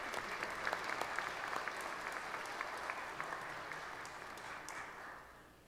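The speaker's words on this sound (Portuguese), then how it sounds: "Recebam os meus aplausos com louvor" Steady audience applause at a 2012 law-school certificate ceremony, a dense even patter of many hands clapping that holds for several seconds, then fades toward the end.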